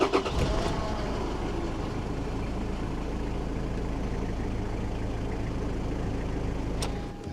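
Diesel engine of a Toyota Land Cruiser Prado idling with a steady low rumble heard from inside the cabin, moderately loud and unbroken, with a faint click near the start and no talk.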